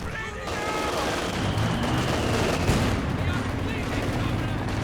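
Sustained gunfire rattles with a few heavier bursts in a Company of Heroes 2 1v1 battle, as a unit opens fire again and a grenade lands, dense and continuous under faint game noise.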